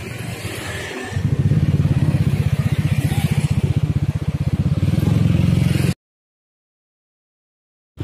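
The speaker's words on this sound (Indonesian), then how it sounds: "Nah gue bakal tes ride motor ini." Yamaha Aerox scooter fitted with an R9 aftermarket exhaust on a test ride, a loud steady pulsing engine drone that starts after a short thump and runs for about five seconds before cutting out.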